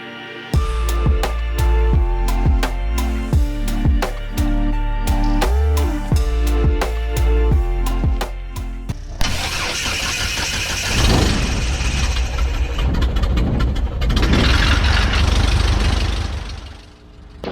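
A Cessna Cub bush plane engine with a carbon fiber prop cranks with rapid, even pulses, then catches and settles into a loud, steady, close idle with fluctuating roughness.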